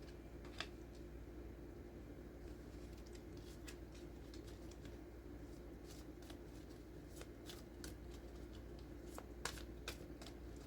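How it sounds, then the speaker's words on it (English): Tarot cards are drawn and laid out one after another in soft, quick papery snaps and slides. The sounds are faint and intermittent over a low steady room hum. "I'll just get all the cards out for now so we can get the whole picture"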